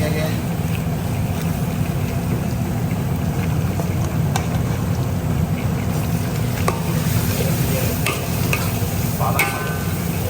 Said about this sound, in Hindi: ये बटर में तैयार हो रहा है पालक गोश्त